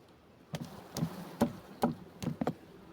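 Bees being shaken off a weak colony's comb frame in cold weather give a series of sharp thumps, roughly six close knocks over a few seconds, with a faint buzzing in between.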